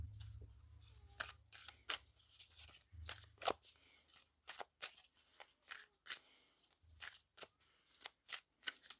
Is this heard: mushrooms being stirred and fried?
no